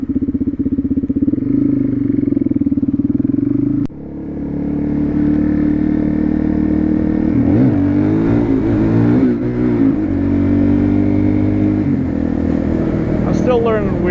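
Motorcycle ridden on a road while practicing wheelies, a loud close engine drone throughout with rising and falling revs, wind buffeting, and a rider talking over it.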